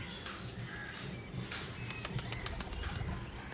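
Pigeons coo softly nearby, with a quick flurry of wing flaps partway through over a low, steady background.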